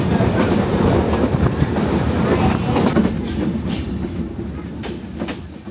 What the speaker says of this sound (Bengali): এবারে আমাদের ট্রেন এসে থামল কোটচাঁদপুর রেল স্টেশনে।